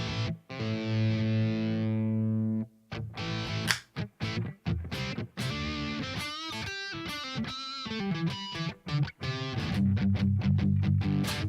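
An electric guitar runs through a Spark amp with drive distortion, moving from sustained gritty chords into choppy, staccato riffing and ending on ringing held chords, loud and upfront with no talking.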